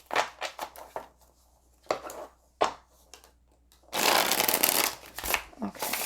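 Tarot cards are shuffled in several quick riffling bursts, close and crisp, followed by a longer, louder stretch of continuous shuffling, with a person talking at times.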